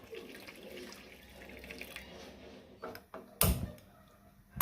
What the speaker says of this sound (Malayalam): ഇത് വേകാനുള്ള വെള്ളം കൂടെ ഒഴിച്ച് കൊടുക്കുക.